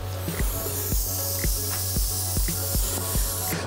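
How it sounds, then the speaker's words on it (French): Pressurized air hisses out steadily from a safety valve, with a soft rhythmic pulsing about twice a second beneath the continuous hiss. "On va entendre l'air s'échapper."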